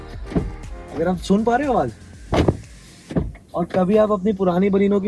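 The door of a new Maruti Baleno is shut once with a short, sharp thud, surrounded by someone talking in Hindi.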